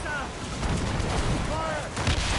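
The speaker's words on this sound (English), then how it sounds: "They're firing a volley!" Naval cannon volley from a sailing warship in Assassin's Creed Rogue, a dense barrage of booming shots rumbling continuously over battle noise and shouted commands.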